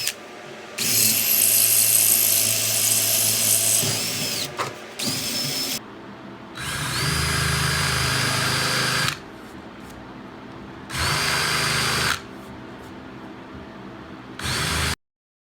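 A power drill with a small bit bores a starter hole through a steel template for a cement Adirondack chair, whining loudly in several separate bursts of a few seconds each, with quiet pauses between.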